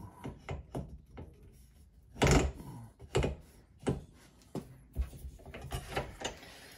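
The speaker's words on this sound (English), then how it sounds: "I'm going to use an old fashioned tool here called a jenny. And if I turn the handle around" An old-fashioned hand-cranked jenny turns the edge of sheet metal. It gives a series of close mechanical clicks and ratcheting grinds in uneven bursts, with one louder, longer churn partway through.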